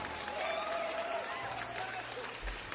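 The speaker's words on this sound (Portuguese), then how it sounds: "Aplausos para os nossos queridos ouvintes." Faint, steady applause in a morning radio studio, a brief patter of clapping with a voice over it and a low hum underneath.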